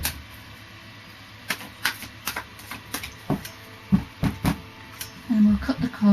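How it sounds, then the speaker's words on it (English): Earth Magic oracle cards shuffled by hand, a run of crisp riffling snaps and flicks at close range, sharper near the end, with no speech over them. "I've done a pre-shuffle of the Earth Magic cards, Capricorn, so I'll just do a final shuffle."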